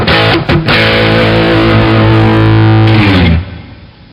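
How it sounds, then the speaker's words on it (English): A loud electric guitar power chord, distorted through an amp or pedal, rings out heavily with a couple of quick re-strikes at the start, then sustains before being choked off. "If you turn on the distortion on your amp, or if you plug in a distortion pedal, it sounds like this."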